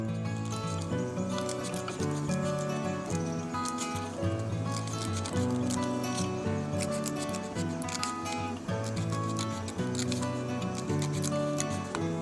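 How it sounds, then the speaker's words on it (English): Scissors snip a sheet of paper into strips for a paper octopus craft, the cuts faint and partly buried under steady background music throughout. "we will take a paper and a scissor and cut strips like this way"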